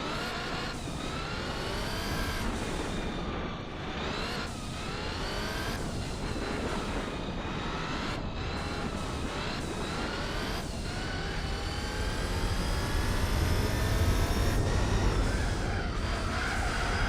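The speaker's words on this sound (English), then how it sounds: "So you can hear the wheels absolutely digging into the earth then" Racing car in Gran Turismo 4 running on dirt with tyres poorly suited to it, wheels churning and scrabbling at the earth under a steady, loud engine drone that rises and falls with shifts and revving throughout.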